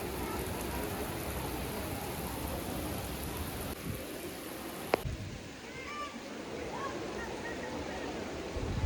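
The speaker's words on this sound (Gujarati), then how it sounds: "મસ્ત ફૂલે ફૂલ વરસાદ આવે છે" Heavy rain pours down steadily at a hilltop temple compound, a dense continuous hiss with a sharp knock partway through and faint voices in the background.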